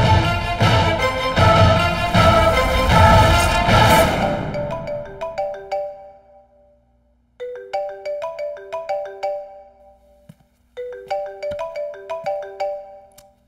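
A phone ringtone plays as a loud, busy tonal melody that fades, then repeats twice as bright, rhythmic bursts of electronic notes with short pauses between, no talking over it.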